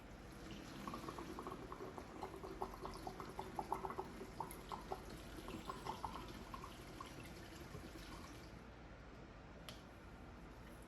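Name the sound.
liquid being poured in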